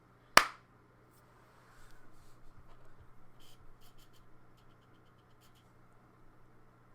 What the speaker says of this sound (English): Now I'm gonna do my end clap and call it quits.